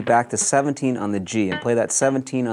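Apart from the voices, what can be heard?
No distinct noise like a dog, phone or traffic.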